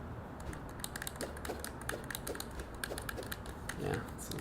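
Clicky mechanical keyboard of a Gecko Cats setup being typed on, a steady run of sharp, close keystrokes with a slightly sticky feel, alone without talk.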